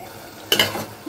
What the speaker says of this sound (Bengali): ডালটাকে ভালো করে কষিয়ে নিয়েছি।